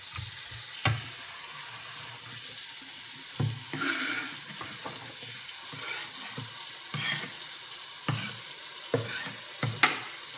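Hands swish and splash lettuce in cold water in a large bowl, with soft sloshing and intermittent close, sharp splashes and clatters.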